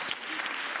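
Short burst of clapping from a congregation at a confirmation service, applauding a performance by a group of boys, fairly faint and steady with no clear talk.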